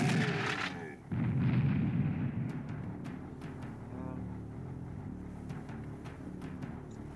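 Gunfire and explosions in the shooter game Serious Sam: The First Encounter, an initial loud blast followed by a rumbling explosion and then scattered sharp shots over a lingering low roar.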